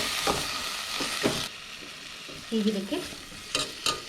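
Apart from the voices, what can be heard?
mixing spice powders in pan for egg biryani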